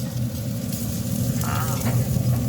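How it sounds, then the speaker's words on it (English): Sausage and pork belly frying in a pan, a loud continuous sizzle with sputtering crackles and faint scraping as the meat is flipped, no speech. "Now I'm just going to flip this sausage."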